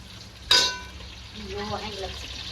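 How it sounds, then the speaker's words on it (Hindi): Onions fry and brown in a pan with a soft, steady sizzle, broken early by one sharp metallic clink and followed by faint tonal background sounds. "यहाँ पे नहीं प्याज ब्राउन हो रही है"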